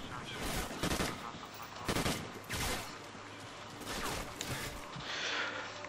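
Gunfire in a Call of Duty Ghosts gun game match, loud close three-round bursts cracking out in several clusters, with game ambience and effects between them.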